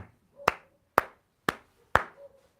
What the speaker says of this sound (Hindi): ये जो ताली बज रही है